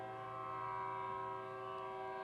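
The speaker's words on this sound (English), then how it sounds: "I think a train is about to pass." A train passes nearby with a steady, sustained horn-like tone over a low rumble, fairly faint and constant, with no talking.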